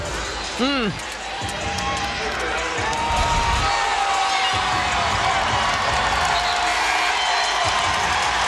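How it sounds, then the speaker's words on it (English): NC State fans cheer loudly in the arena during the ACC women's basketball championship game against Miami. A broad, sustained crowd roar rises and stays high while commentators talk over it and a squeaky whistle-like tone sounds briefly near the start. "the loud cheer from NC State faithful"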